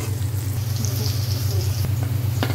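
Spring onion whites sizzle steadily in hot oil in a pan for chicken fried rice, a close, continuous crackle with a low hum underneath and a faint clink near the end.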